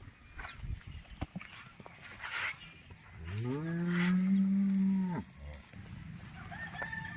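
A red Jersey cross cow with white patches gives one long, loud, drawn-out moo at a farm, with faint background noise before and after.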